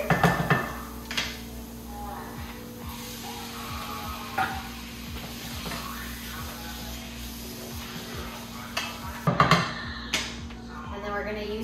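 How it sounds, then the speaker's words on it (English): Shrimp go into a pan of frying garlic with a steady sizzle, stirring and scraping throughout, and louder clattering of cookware near the end. "All right, so now we will add our shrimp."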